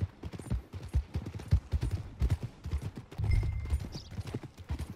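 Horse hooves clip-clopping in Red Dead Redemption 2, a brisk, uneven patter of hoofbeats mixed with low rumbling game ambience, moderately loud and alone with no talk.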